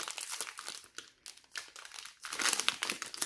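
A fat pack of 2020 Donruss Racing NASCAR trading cards is torn open by hand, with close crinkling and crumpling of foil wrapper in uneven bursts.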